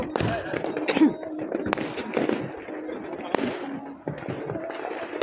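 Fireworks bursting at a New Year's Eve picnic, a rapid irregular string of sharp cracks and pops, some near and some farther off, with people talking underneath.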